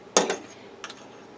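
A butter knife scrapes across a level teaspoon of powder for homemade pork cat food, two short metallic clicks and scrapes close up with a quiet gap between them.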